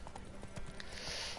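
Hooves of a horse ridden in The Witcher 3 video game clip-clop in a quick, even trotting rhythm, soft and fairly faint, with a brief higher sound near the end.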